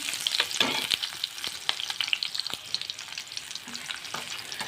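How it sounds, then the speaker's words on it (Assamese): Onions and bay leaves fry in oil in an old karahi wok passed down from the grandparents, giving a close, steady sizzle with crackling pops throughout and no talking. "এইখিনি মই হেতাখনেৰে ৰংচোৱা হোৱালৈকে ফ্ৰাই কৰিম।"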